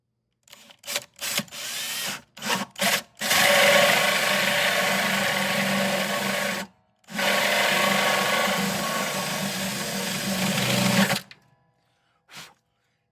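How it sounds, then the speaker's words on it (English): A drill boring a 15/16-inch hole in the bottom of a composite acoustic guitar: several short bursts of close, loud grinding, then two long sustained runs with a brief pause between, ending in quiet. "I'm getting ready to drill my 15/16 hole in the bottom of the guitar"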